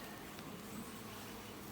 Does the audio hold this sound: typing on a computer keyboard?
no